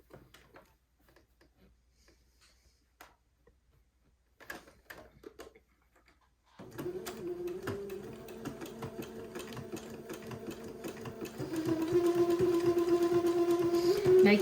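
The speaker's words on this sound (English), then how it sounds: "I'm going to zigzag along this entre-deux line and tack this down." A sewing machine zigzag-stitches along entre-deux lace for a child's heirloom bubble outfit. A few quiet clicks come first, then the steady whirring stitching starts and grows louder toward the end.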